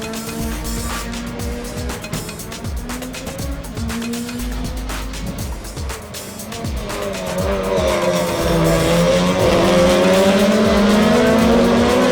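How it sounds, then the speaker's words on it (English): GRC Lites rallycross race cars with over 300 horsepower at a Red Bull Global Rallycross event at Bushy Park, Barbados: engines roar and rev with popping bursts, swelling louder toward the end as the cars come closer, with no talking. "These cars are over 300 horsepower, and the drivers hone their skills in these machines."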